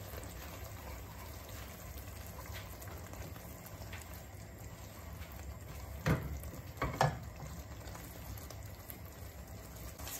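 Spices being stirred and fried over high heat for chicken bhuna: a steady low sizzle with a few scraping stirs of the spoon in the pan midway.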